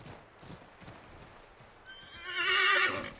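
A horse in Assassin's Creed III Remastered gives a loud, close whinny near the end, after a stretch of soft hoofbeats clopping beneath it.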